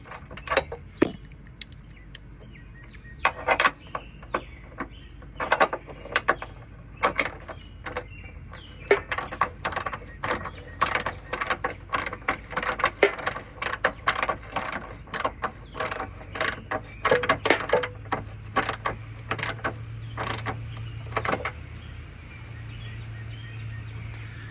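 Ratchet wrench tightening the bracket bolts of a truck step, a long run of rapid clicking bursts in short repeated strokes, close and fairly loud with brief pauses between.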